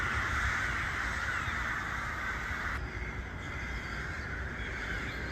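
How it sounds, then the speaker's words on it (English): Birds calling outdoors at a UK motorway service station car park, with crow-like caws over a dense, steady wash of background noise. "Birds are singing."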